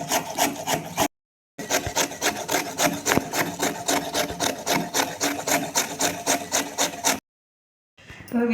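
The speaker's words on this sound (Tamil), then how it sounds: "இதை நம்ம இப்போ திருவி எடுத்துக்கலாம்." A carrot is rubbed against a grater in a home kitchen, giving quick rhythmic rasping strokes in a steady back-and-forth pattern. The scraping is close and clear and stops with brief pauses. Nobody talks.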